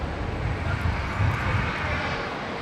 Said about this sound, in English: Here we go, Qantas 932, just about to touch down from Perth.